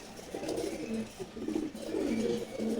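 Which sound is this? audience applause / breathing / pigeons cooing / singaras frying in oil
pigeons cooing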